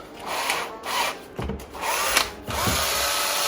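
A power drill with a scouring pad attachment whirs in short bursts, the spinning pad scrubbing against an old kart part with rising and falling pitch, close up.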